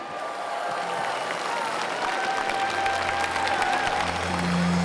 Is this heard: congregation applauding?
yes